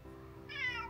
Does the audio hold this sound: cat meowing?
yes